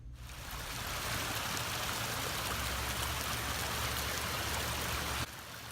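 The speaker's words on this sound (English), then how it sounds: "She says, Don, listen to the water." Water flows steadily through a community ditch, a soft, continuous trickling rush that swells in and holds evenly, faint and heard alone outdoors.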